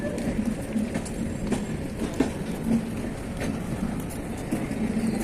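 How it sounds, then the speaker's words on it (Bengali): Train running past near the level crossing by Shalimar station, a steady mid-distance rumble with rhythmic clacking of wheels over rail joints. "একটা ট্রেন এখন পাস করছে"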